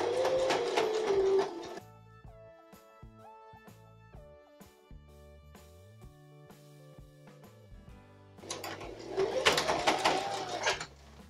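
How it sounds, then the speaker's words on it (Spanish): Straight-stitch sewing machine set to stitch length 3 sewing a seam on men's joggers: a steady mechanical whirring run at the start, a stretch of quieter background with tonal sounds, then the motor running again louder near the end. "Para hacer esta puntada voy a utilizar una recta en un largo del número 3"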